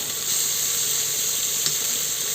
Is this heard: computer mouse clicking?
no